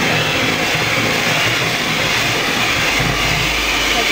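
Electric mixer beats eggs, sugar and vanilla into homemade cookie dough for jam cookies, a steady, loud, continuous motor whir with no breaks and no voices.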